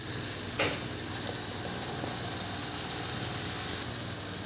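Tomato puree hitting fried onions in a pan for restaurant-style dal makhani, giving a steady, close, loud sizzle throughout with a brief splashy burst as it goes in.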